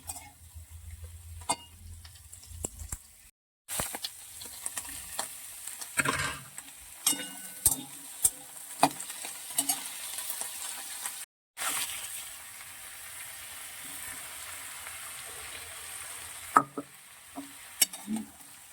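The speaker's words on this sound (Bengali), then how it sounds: "পেঁয়াজ কালি দিয়ে মোলা মাছের চচ্চড়িটা বসিয়ে দিয়েছি" Mola fish chorchori cooks with onion and nigella seeds in a pan, a continuous sizzle of frying broken by repeated scraping strokes of stirring, close up, with no talk.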